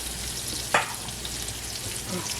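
Pork chops fry in a pan over medium-low heat with a steady, quiet sizzle throughout and one brief sharper crackle near the start.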